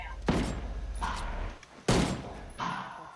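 Gunfire in Ghost Recon Wildlands, heard as two loud, sharp bursts about a second and a half apart, each trailing into a rumbling tail, with fainter follow-up shots between.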